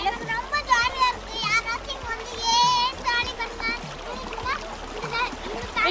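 Children splashing and playing in the Kallar river in the woods, with bursts of water splatter mixed with excited kids' voices and chatter close by throughout.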